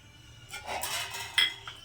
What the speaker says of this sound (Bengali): এবার এটাকে আমি একটা ঢাকনা দিয়ে ঢেকে এটাকে একটু ফুটতে দেব